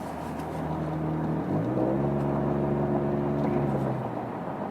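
Engine of a 2017 Ford Fusion Sport with a muffler delete, a close, throaty hum that rises in pitch as it revs briefly, then holds a steady drone before settling back.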